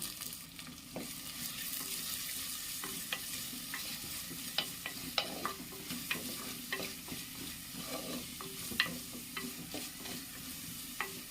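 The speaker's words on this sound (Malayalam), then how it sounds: "ഇനി നമുക്കൊന്ന് ഇളക്കി കൊടുക്കാം" Sliced onion and green chillies sizzle in a pan for masoor dal curry, a soft continuous frying hiss broken by regular scraping and light taps of a spoon stirring, with no voices.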